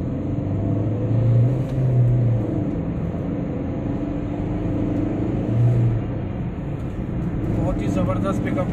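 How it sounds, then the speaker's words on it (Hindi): A 2014 Maruti Swift VDI diesel hatchback accelerates on a test drive in Delhi, its engine rumbling steadily from inside the cabin with swells in pitch as it picks up speed. "देख लीजिए गाड़ी का पिकअप,"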